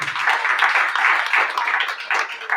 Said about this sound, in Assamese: বল আমি তালি বজাই ঈশ্বৰক ধন্যবাদ।